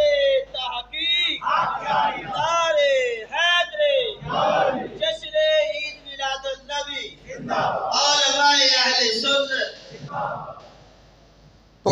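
A crowd at a religious gathering shouts slogans in loud, rhythmic unison. The massed voices come in repeated bursts, close and full, filling nearly the whole stretch before dropping away near the end.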